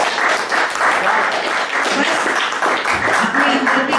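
Audience applause at a Hindi poetry gathering, a kavi sammelan, with dense clapping filling the room for a few seconds while a voice speaks over it near the end.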